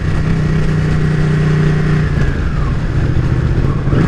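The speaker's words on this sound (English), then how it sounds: "Gotta love that exhaust too." A Ducati 959 Panigale motorcycle with its stock exhaust runs loud and close, its engine holding a steady drone with a brief rise and fall in pitch as the throttle is worked.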